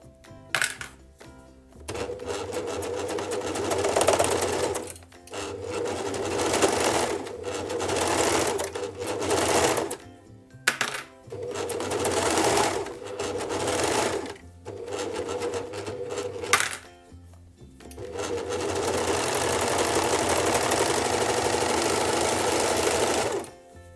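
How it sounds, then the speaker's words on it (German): A sewing machine stitches a knit cuff with an elastic stitch in rapid, even bursts of mechanical whirring. Several runs of a few seconds each are broken by short pauses, and a long final run closes the stretch. "Das Bündchen lege ich mir jetzt immer so unter die Maschine, dass ich auf der Innenseite nähe."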